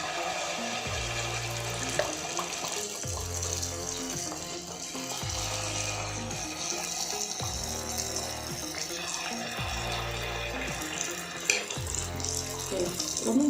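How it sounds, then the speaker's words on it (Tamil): Paniyaram batter poured into hot oil sizzles with a steady hiss throughout, over a repeating low pulsing background. "எண்ணெய் சூடாயிடுச்சு. சின்ன கரண்டியில் எடுத்து மெதுவாக ஊற்றணும்."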